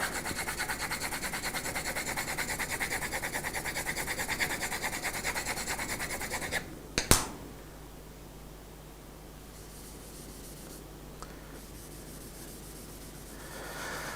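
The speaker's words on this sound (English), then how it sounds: "now with this cloth we're going to start rubbing on our tonal value" A cloth rubs pencil tone onto drawing paper for a glass-of-water drawing. A steady, close, dry rubbing hiss runs for about six seconds, then stops sharply, leaving a quiet room.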